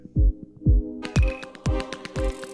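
Electronic beat on the Samplr iPad app whose sound starts muffled and dull, then opens up into a bright, full mix as a filter sweeps upward.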